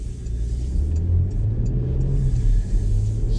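A 2021 Porsche Macan S SUV's engine accelerates hard from the cabin, a steady loud low rumble that swells under road noise throughout, with no talk.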